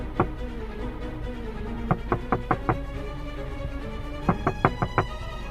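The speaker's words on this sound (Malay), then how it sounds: "Tak sempat peluh aku kering, ketukan tu bermula semula." Knocking on a bedroom door at night, two quick bursts of four or five sharp raps each, fairly close, separated by a pause over a low steady background hum.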